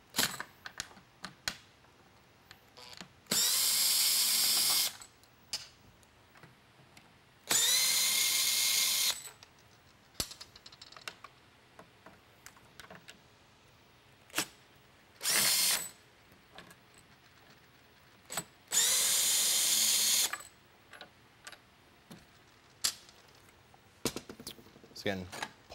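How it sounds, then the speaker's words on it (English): Power drill backing out the four screws on the end cap of a Whelen Liberty emergency light bar, several loud whirring bursts of a few seconds each, close up, separated by clicks, handling noise and someone talking. "Take a drill, start by removing the four screws that affix the end cap here."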